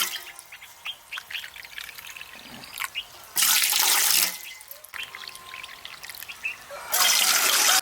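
Water is poured into a pot for ragi sangati in two loud splashing gushes, separated by quieter trickling and handling sounds, close by with no talk.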